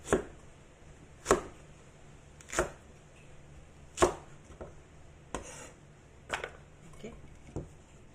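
A kitchen knife slices through okra on a cutting board, about a dozen crisp, sharp chops at irregular intervals, close and fairly quiet with no talking.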